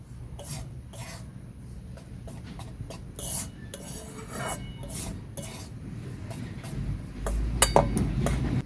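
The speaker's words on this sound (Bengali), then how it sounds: "আটাটাকে আমি ভালো করে ভেজে নেব," Flour being dry-roasted in hot oil in a wok for laddu, stirred with scraping, rasping strokes of a spoon against the pan, with occasional clinks, fairly close and steady throughout.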